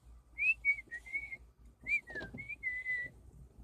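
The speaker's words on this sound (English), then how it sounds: "I hear somebody whistling." A person whistles a short, lilting tune nearby, in bright repeated phrases with a brief pause midway, over low background rumble at a Sonic drive-in.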